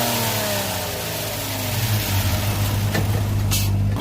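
A 2014 Honda Accord V6 with a drop-in air filter accelerates hard, its engine note climbing in pitch and then dropping as it shifts into the next gear, loud and close with no talking.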